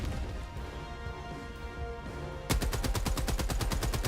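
A gun emplacement fires in Helldivers 2, a loud rapid evenly spaced burst of heavy shots cutting in after a dense rumbling, chaotic battle din.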